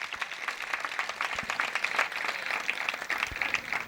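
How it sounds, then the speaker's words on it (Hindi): A temple audience at a Mahavir Nirvana Diwali gathering claps steadily, many hands together in a dense, sustained round of applause that carries on through the whole stretch without talk. "4 महीने से देख रहा हूं ताली बजाना तो अच्छा आता है इन लोगों को"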